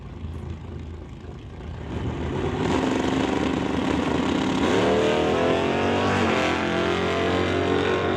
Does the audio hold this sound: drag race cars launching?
yes